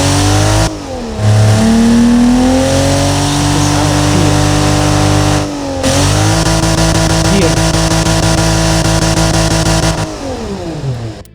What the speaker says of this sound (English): Now we can hear the induction of the engine.